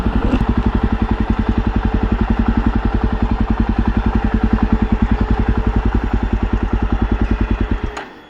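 A motorcycle engine idles steadily with a fast, even thumping pulse for about eight seconds before cutting off, close and loud, with a crowd near a temple in Devgad, Konkan, around it.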